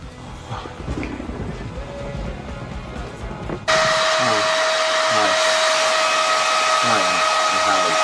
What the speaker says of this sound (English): Hairdryer's in the bathroom